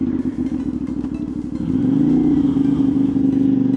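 A CFMOTO 450SS motorcycle being ridden, its engine droning steadily close up, then revving and climbing in pitch as it accelerates, loud and continuous with no talk.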